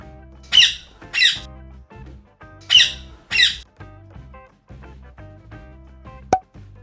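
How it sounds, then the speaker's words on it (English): Four loud parrot squawks come in two pairs, harsh and bright, followed later by a short sharp squeak. A low musical backing plays throughout. "This is a parrot."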